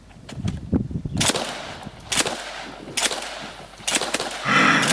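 Fully automatic gunfire played back from a video, several loud sharp bursts of rapid shots separated by brief gaps, with a sustained burst building at the end.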